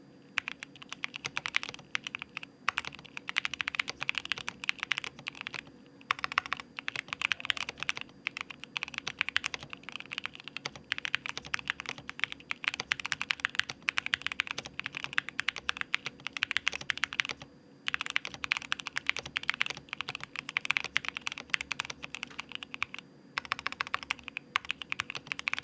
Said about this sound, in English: How's the typing test?